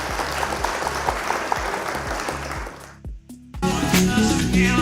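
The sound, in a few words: clapping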